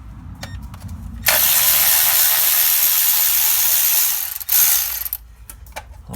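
A ratchet spins out 10mm bolts from the lower timing cover of a Nissan Figaro, giving a loud, fast clicking burst of about three seconds. Short mechanical taps and clinks come before and after it.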